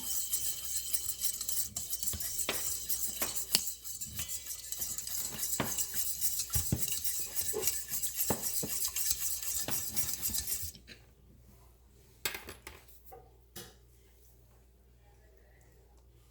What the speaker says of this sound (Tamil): சீனி போடுறேன் நல்லா கரைச்சி விடுவோம்